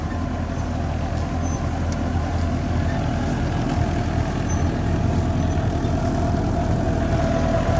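A tractor engine runs in a wheat field, giving a steady, loud, low diesel rumble that holds constant throughout with no break.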